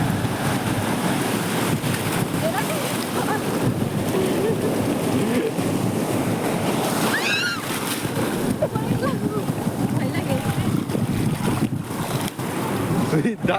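Sea waves rolling onto Puri beach, with wind buffeting the microphone, make a steady, close wash of surf that carries on without pause.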